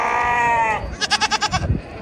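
Goats at a camel market in Somalia bleat loudly nearby: one long wavering bleat, then a rapid pulsing run of six or seven quick stuttering bleats.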